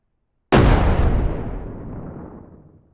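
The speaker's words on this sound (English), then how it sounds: "So let's just grenade that." A single grenade explosion on an oil rig map in a video game: a sudden loud boom after half a second of silence, then a long rumbling decay fading out over two seconds.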